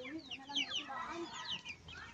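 Chickens, both small and large birds, cluck softly and a little distantly around a bahay kubo yard, with short scattered calls over a faint background.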